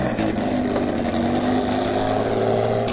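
Loud Mark II GT car engine roaring at an outdoor car meet, a sustained throaty drone close by with a busy crowd and traffic ambience underneath.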